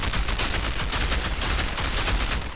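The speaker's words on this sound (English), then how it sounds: "let me do my poison bullets" Poison bullets fired in the video game Outriders make a dense, continuous barrage of loud gunshots, close and unbroken, with no talk over them.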